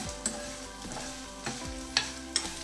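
Dried red chillies frying in hot tempering oil for Andhra-style palak chutney, a continuous close sizzle with a few stirring clinks and scrapes from a utensil in the pan.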